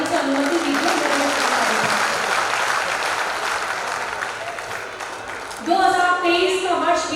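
An audience at a Hindi comic poetry gathering (hasya kavi sammelan) applauds loudly and steadily, a dense sustained clapping crowd, with a voice speaking over the clapping toward the end.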